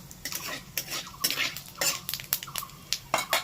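Whole spices, cardamom, cinnamon, bay leaves and cumin, being stirred in a pan with a utensil, heard as repeated scraping and clinking strokes over a faint low sizzle.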